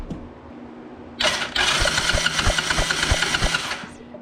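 An engine is cranked by its starter without firing, giving a loud close whirring drone with a regular rhythmic chug of compression beats for about three seconds before stopping.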